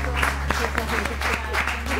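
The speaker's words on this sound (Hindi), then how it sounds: "बहुत सारी तालियां इन लोगों के लिए, दोनों के लिए।" Studio audience clapping on a morning TV show, a continuous patter of hands over a steady electrical hum, with voices audible beneath.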